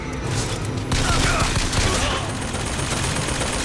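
An automated turret firing in the game Bioshock Infinite, with a dense, continuous burst of rapid gunfire that stays loud throughout amid game noise.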